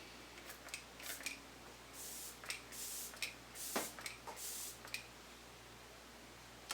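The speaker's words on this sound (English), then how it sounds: "I'm going to be using this Yes to Grapefruit Brightening Unicorn Brightening Mist" Pump bottle of Yes to Grapefruit brightening face mist being sprayed; several short, fine hissing bursts close by, separated by small clicks and rustles, quiet overall.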